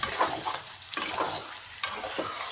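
Chicken in a yogurt mixture being stir-fried over low heat in a pan, with a soft steady sizzle and three rhythmic scraping strokes of a spoon, close and fairly loud, with no talking.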